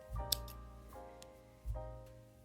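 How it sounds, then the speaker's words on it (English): Two snips of scissors cutting crochet yarn, close up, each a short metallic crunch with a brief ring, spaced about a second apart. "grab your scissors and cut."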